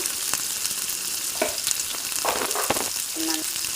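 Small fish frying in a pan, a steady close sizzle with a few brief clinks and scrapes scattered through, and no talking.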